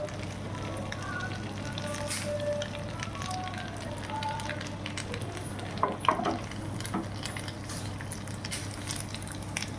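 Asafoetida frying in ghee for kattu pongal, a soft steady sizzle with light stirring scrapes close by, running under a speaking voice.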